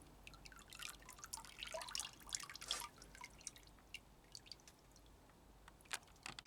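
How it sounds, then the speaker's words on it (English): Water drips and splashes faintly onto a Phragmipedium orchid, a cross between Cavacii and Living Fire, in irregular close patters with a brief denser trickle, quiet and without speech. "The one I'll water is this Phragmipedium."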